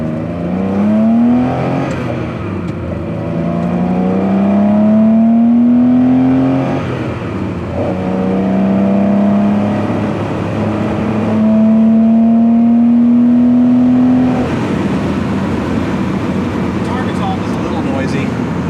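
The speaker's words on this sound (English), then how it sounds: "Went ahead and pulled the air filters off this unit so you could get an idea of what all 6 carburetors sound like." A Porsche 911 Targa with six carburetors and its air filters removed, heard from inside the car as the engine pulls loudly through several rising revs with gear changes between, while a person speaks over the drone.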